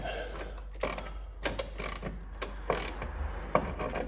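A ratchet wrench loosens a 17 mm bolt on top of a 1.3 NZ engine in a 1988 Volkswagen Golf 1300 during a timing belt change, making quick, close clicking bursts in short repeated strokes with small metallic knocks between them.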